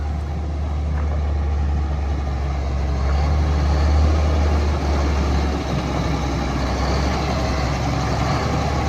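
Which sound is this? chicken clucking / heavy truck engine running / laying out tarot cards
heavy truck engine running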